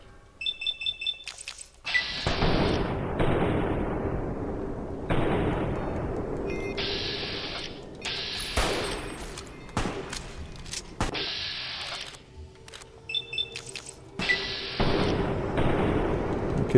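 Sniper rifle shots ring out in Fallout New Vegas, several loud booming cracks spaced a few seconds apart, each with a long decaying tail, mixed with sharp game interface tones and clicks.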